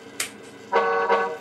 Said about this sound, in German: wir können jetzt auch noch die Hupe ändern